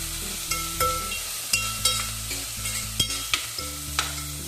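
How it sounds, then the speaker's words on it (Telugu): Onions frying with cumin seeds in a pan for a baby potato curry, a steady sizzle broken by repeated scraping stirs of a spoon against the metal, close and moderately loud with no talking. "ఆనియన్స్ వేగేదాకా చూద్దాం."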